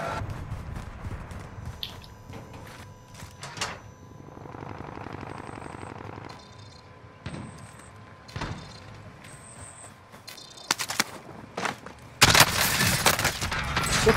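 Bursts of gunfire in a shooter video game, with sharp shots spread across the clip and a dense loud volley near the end, mixed with other game sounds.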